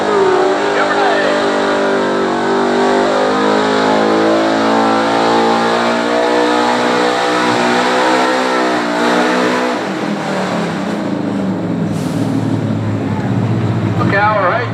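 A Chevrolet pulling truck's engine roars and revs hard continuously at a truck and tractor pull, pitch climbing and surging, loud and close, with a brief dip before rising again.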